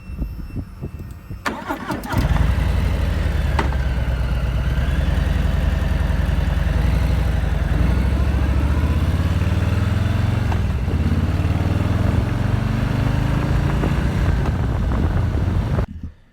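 A newly bought motorcycle starts up with a sharp burst, then its engine runs loud and close for about fourteen seconds, shifting pitch slightly, before cutting off abruptly.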